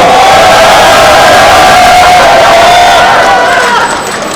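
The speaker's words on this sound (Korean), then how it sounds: "큰 박수 부탁드리겠습니다." A crowd at an outdoor campaign rally in a market for an education superintendent candidate roars and cheers loudly and continuously, with a tonal public-address or music layer underneath before it eases slightly at the end.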